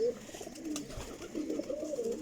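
A Faqir Gul pigeon coos softly in a few low, rolling, throaty phrases, close by and otherwise quiet.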